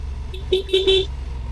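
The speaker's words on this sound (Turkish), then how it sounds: "Artık burada bir korna çaldım" A Honda Transalp motorcycle's short horn toots in a few quick bursts, nearby, over a steady low engine rumble on a road to Şirince near İzmir.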